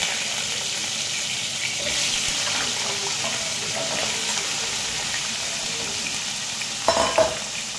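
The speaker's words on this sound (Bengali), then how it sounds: "এখন ওই তেলের মধ্যে আমি আলুগুলো ভেজে নেব।" Potatoes fry in oil left from frying hilsa fish, with a continuous bright sizzle, and a couple of quick scraping stirs near the end.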